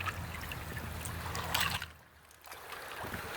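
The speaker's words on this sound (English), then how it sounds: "it'll be based on if the water's flowing over the rocks." River water flows over rocks into a small waterfall, a close, bright splashing trickle that briefly drops away and then returns as the flow is disturbed.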